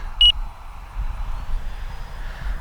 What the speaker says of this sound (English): That's just my timer saying I've got 30 seconds left.